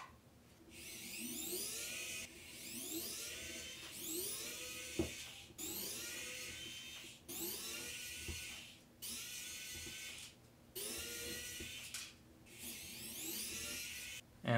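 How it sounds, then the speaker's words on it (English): A small electric screwdriver removes Torx 6 screws from the touch panel of an Apple HomePod 2, giving a run of repeated whining buzzes of a second or two each, separated by brief pauses, fairly quiet and close. "once we have those 8 Torx 6 screws removed"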